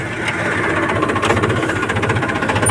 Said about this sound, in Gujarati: ચાલો ચાલુ કરું ટ્રેક્ટર